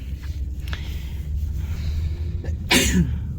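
A man sneezes once, a loud, explosive burst, during a car ride to a shopping mall, with a low, steady road and engine rumble underneath.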